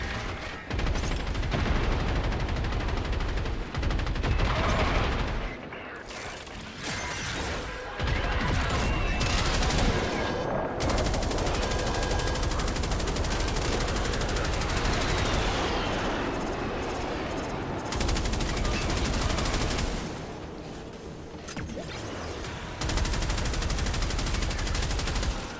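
Heavy gunfire in the video game Warframe, loud continuous bursts of shots and impacts that pause briefly now and then before resuming.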